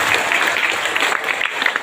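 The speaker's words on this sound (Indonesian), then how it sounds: "Mari kita berikan tepuk tangan dulu." Applause from an audience at a Catholic university event in Malaka, a steady dense patter of many hands clapping, fairly close and sustained throughout, with a faint voice underneath.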